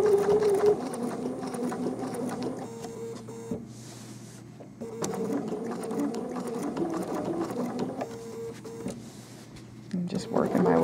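Sewing machine stitching black-thread applique outlines on a quilt, rapid rhythmic bursts of close mechanical stitching broken by short stops, under occasional talk.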